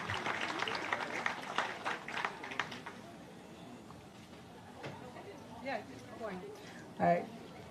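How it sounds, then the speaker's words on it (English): After a traditional Tongan dance, an audience gives a few seconds of quiet, scattered applause that fades out before a voice starts speaking. "one more big round of applause for the first two performers"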